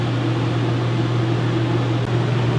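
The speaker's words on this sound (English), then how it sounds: "Now I'm running the air conditioner right now." An RV air conditioner in a Freedom Express 275BHS travel trailer runs on high fan, giving a steady, close whooshing roar with a low mechanical hum that holds without a break.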